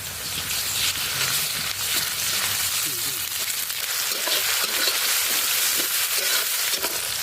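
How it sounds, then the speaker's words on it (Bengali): Onions fry in oil with ginger-garlic paste, cumin and dried chilli paste for a village-style chicken curry, giving a steady, loud, close sizzle that runs throughout without pause. "পেঁয়াজ অনেকটা ভাজা হয়ে গেছে, এখন দিয়ে দেবো আদা রসুন বাটা, জিরা আর শুকনো লঙ্কা বাটা।"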